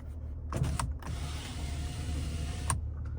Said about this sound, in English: control for the rear window. I'll go ahead and demonstrate that.